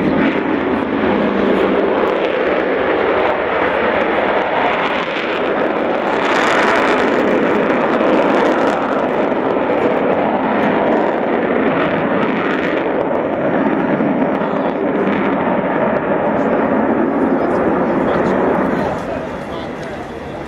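An Avro Vulcan bomber flies past, a loud, sustained broadband jet roar that swells slightly mid-pass and fades toward the end, with a commentator's voice over it.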